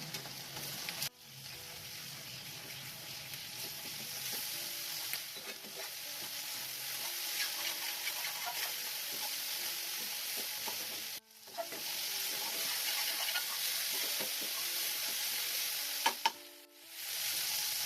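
Ginger, garlic and coconut paste fries and sizzles steadily in a pan, with a spoon stirring and scraping through it; brief pauses break the close, continuous sizzle.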